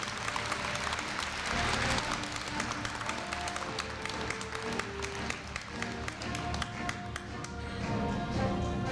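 Sustained audience applause at a Korea University freshman entrance ceremony honoring a Crimson scholarship recipient, a dense steady wash of many hands clapping in a large hall, with faint voices mixed in.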